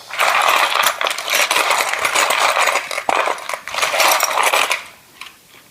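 Small metal charms jingling and clattering as they are shaken and dropped, a busy rattling that fades out near the end.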